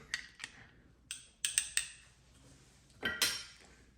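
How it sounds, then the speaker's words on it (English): A spoon stirs a small cup of espresso, giving a few light, close metallic clinks and taps against the cup, spaced irregularly with quiet gaps between them. "So let's give it a quick stir."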